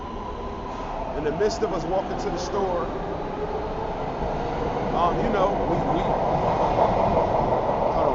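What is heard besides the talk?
train passing by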